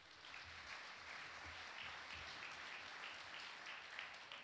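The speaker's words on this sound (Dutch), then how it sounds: "Ik wil graag een applaus voor Philipsen" Steady audience applause fills a business congress hall in Wijchen, a dense continuous patter of many hands at moderate level, with faint voices underneath.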